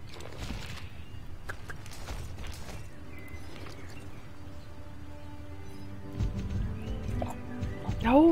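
A horse in the Star Stable video game clip-clops along with hoof beats and lets out a whinny. A faint voice talks underneath, and it gets louder near the end.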